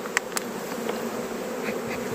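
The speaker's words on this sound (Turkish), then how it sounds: "arı oğul tutmuş mu tutmamış mı arı ona bakıyoruz şu an." A steady drone of many honeybees buzzing close by at a hive, continuous and moderately loud, with a couple of faint clicks near the start.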